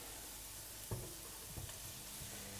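Radicchio dropped into a pan of hot garlic, a soft steady sizzle with a couple of brief stirring scrapes, quiet and close, with no voices.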